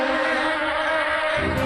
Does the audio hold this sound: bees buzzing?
yes